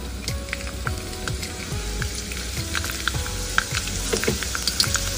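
Small pieces of chopped garlic, four to five cloves, sizzle and crackle steadily in hot oil in a pan, with a continuous frying hiss and occasional stirring clicks, close and fairly loud.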